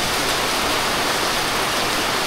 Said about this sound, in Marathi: मंथ ऑफ मे मध्ये एवढा जोरात पाऊस